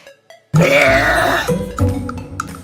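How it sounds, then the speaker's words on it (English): One long, loud, deep burp from a woman that rumbles for about a second, then trails off into a few smaller croaking gurgles. "the woman who burps the loudest in the world"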